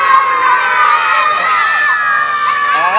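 A crowd of schoolchildren at a fire-prevention visit shouting and cheering together, a loud, sustained burst of high-pitched voices filling the whole moment with no pause.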